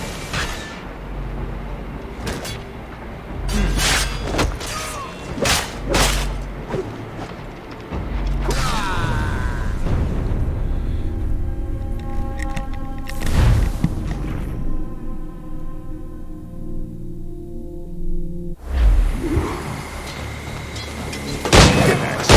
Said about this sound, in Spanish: Nadie es inmune a los disparos de pistola.